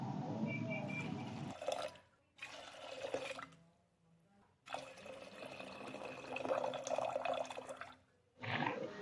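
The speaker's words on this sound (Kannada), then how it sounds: "ಹಾಗೆ ಇದಕ್ಕೆ ಒಂದು 4 ಕಪ್ಪಷ್ಟು ನೀರನ್ನು ಹಾಕೊಳ್ಳಿ." Water is poured from a cup into a pressure cooker holding toor dal in a home kitchen, a splashing, gurgling fill in several separate pours with brief quiet gaps between them.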